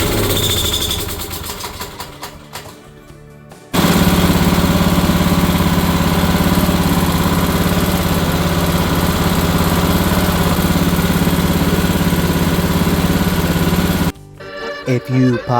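A Kohler engine on a lawn mower, repaired after mouse-nest damage, runs loud and steady for about ten seconds at a constant idle-like drone, with sputtering starts and stops at either end.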